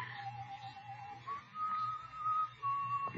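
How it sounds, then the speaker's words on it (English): A lone person whistles a slow tune somewhere inside a building in a radio drama, the thin melody held in long notes over a low background hum, faint and without speech. "The whistling was somewhere in the building."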